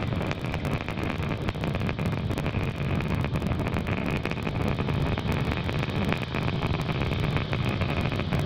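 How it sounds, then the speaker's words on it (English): SpaceX Falcon 9 rocket lifting off from Space Launch Complex 40 at Cape Canaveral, Florida, carrying Starlink satellites: a steady, dense, broadband roar with heavy low rumble and wind-like buffeting, constant and loud throughout with no talk. "F9 has successfully lifted off from Slick 40 at Cape Canaveral, Florida at 11:36 p.m. Eastern Time"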